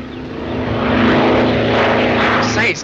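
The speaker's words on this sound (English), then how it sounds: "That must be Mr. Griffith's plane." A 1939 crop-dusting propeller airplane drones loudly and steadily overhead as it comes in, its engine hum holding strong throughout while voices talk beneath it.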